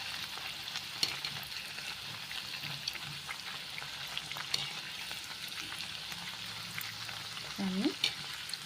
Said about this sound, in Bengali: এইভাবে এটাকে একটু কড়ক করে হালকা ব্রাউন কালার করে এটাকে আমরা ভেজে নেব